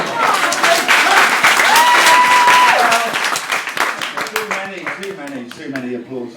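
A live comedy audience bursts into loud, dense applause and clapping, fading after a few seconds as voices speak over it.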